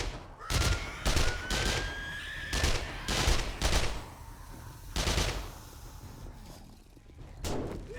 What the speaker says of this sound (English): The SMG reloads really slow.